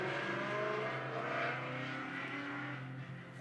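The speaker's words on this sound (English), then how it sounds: "I honestly don't know why people need to rev their engines like that." A car engine outside revs loudly and holds a sustained, rising-and-falling roar for several seconds, somewhat distant but dominant, with no voices.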